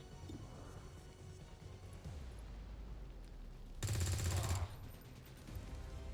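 XCOM 2 game weapon fire from a double shot, a short loud burst of rapid gunfire near the middle standing out against quiet background noise.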